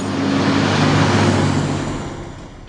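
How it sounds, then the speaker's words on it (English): A truck in the Corpse Party Blood Drive video game rumbles past at close range, a loud engine roar that swells and then fades away over a few seconds. "Another truck was just about to pass, and the stones were immediately in its path."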